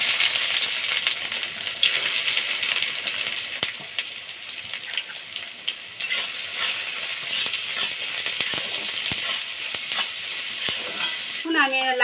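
Chopped onion sizzles steadily in hot mustard oil with a little sugar, a continuous close, bright frying hiss with occasional stirring clicks, carrying on for the whole stretch with no talking.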